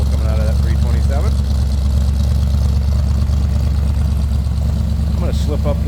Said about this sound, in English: Little rumble coming out of that 327.